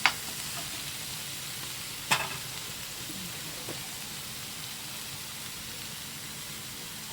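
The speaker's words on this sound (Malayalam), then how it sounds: "ഇത് വഴണ്ട് എണ്ണയിൽ കിടന്ന് വണ്ട് പച്ചമണമൊക്കെ ഒന്ന് മാറി വന്നിട്ടുണ്ട്" Squid sautés in hot oil in a pan for a Kerala-style thoran, giving a steady soft sizzle with a couple of sharp clinks of a utensil near the start.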